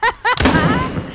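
A salt gun fires in the ghost-hunting game Demonologist, a mental hospital level, giving a sharp, loud shot with a ringing, reverberant tail. Two short voiced sounds come just before it.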